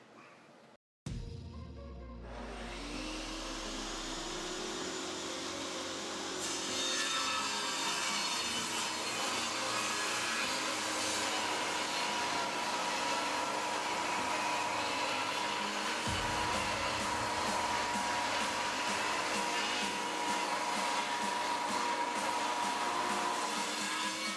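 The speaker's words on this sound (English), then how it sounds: "lay that against the table and run it through the saw" A power saw spins up and grinds steadily through maple wood for a long continuous cut, loud and close, with the pitch shifting partway through.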